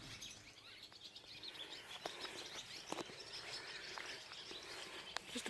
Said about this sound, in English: Just a bunch of birds singing.